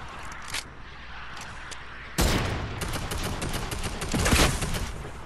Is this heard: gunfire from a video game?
yes